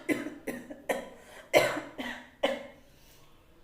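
Loud, repeated coughing from a single person, six harsh bursts in under four seconds with short gaps between them, close and with no talk over it.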